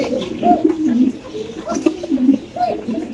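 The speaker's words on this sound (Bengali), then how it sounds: "আরাবিয়ান কাকা কবুতর ডাকটা শুনুন আপনারা" An Arabian kaka pigeon coos at a pigeon farm, giving several low, throaty repeated calls close by, with voices of people talking around it.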